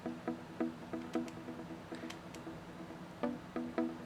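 Short plucked notes from a trance synth patch called Plux 1, made for a bootleg remix. Bright, clipped notes repeat in an irregular rhythm, playing alone with no voices.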